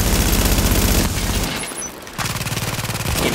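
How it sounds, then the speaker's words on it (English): Turret gunfire in The Division video game, rapid loud bursts of automatic shots that break off briefly midway before a fresh volley resumes. "Getting shot in the face by the turret"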